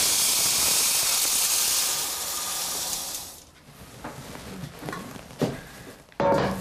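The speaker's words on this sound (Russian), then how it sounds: "Сюда мы высыпаем зерно, отсюда зерно сыпется." Grain poured through a BIS sample divider makes a steady, dense rushing hiss for about three seconds. It then cuts off, leaving faint scattered ticks and light handling knocks.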